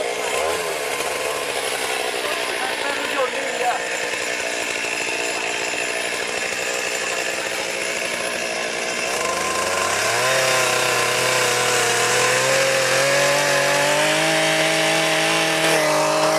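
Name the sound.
chainsaw cutting rhino horn during dehorning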